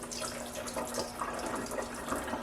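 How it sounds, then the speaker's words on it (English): Water draining steadily out of a Sani Bot D6 CPAP cleaner after its 20-minute cleaning cycle, a soft continuous gurgling trickle with a faint hum underneath, close and quiet with no voices. "let all of the water out of there."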